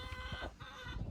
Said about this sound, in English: we got another chicken in there